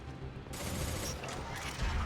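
Gunfire in the video game Mass Effect 2, a sustained burst of weapon fire with a continuous loud crackling texture for about two seconds, sharpening after the first half-second, with no talk over it.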